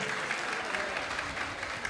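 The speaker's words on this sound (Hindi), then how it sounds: "इसलिए एक बार जोरदार तालियां इनके सम्मान में।" An audience applauds a guest at a kalash sthapana ceremony of a Jain muni diksha festival in Lalitpur, Uttar Pradesh, a steady, even wash of clapping heard at a moderate distance.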